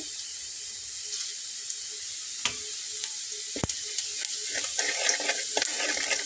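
Continuous light sizzling of cumin seeds in hot oil beside onions, with occasional sharp clicks and scrapes from a utensil against the pan.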